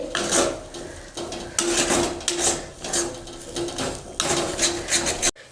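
A spatula works a green pea filling with turmeric around a pan for kachori, making repeated rhythmic scraping strokes up close, with short pauses between bursts.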